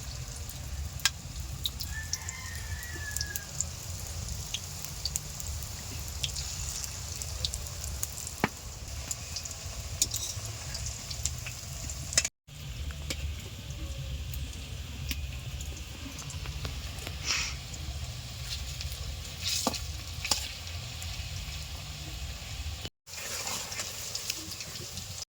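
Cabbage and egg pakora balls frying in hot oil, a steady, even sizzle that continues throughout at moderate loudness, with faint clicks and kitchen sounds.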